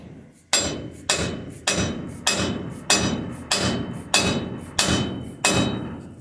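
Hammer tapping a wheel stud into the hub of a 1955 GMC truck: ten evenly spaced, sharp metallic strikes about half a second apart, each ringing briefly before the next, close and clear with no talk.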